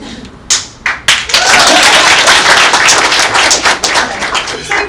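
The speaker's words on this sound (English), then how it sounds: "please applaud." An audience at a real estate panel discussion in New York breaks into applause, starting with a few scattered claps that swell into sustained, loud clapping before tapering slightly.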